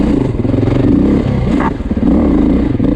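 A Beta 430 dirt bike rips past nearby, a loud rough engine roar with a brief dip in the middle as it passes, then steady revving, with no voices.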